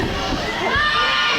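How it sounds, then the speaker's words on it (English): A wrestling crowd at an independent IPW show cheers and shouts continuously for a wrestler, a loud, dense wash of voices with higher children's yells rising through it. "This IPW crowd trying to get behind Shelby."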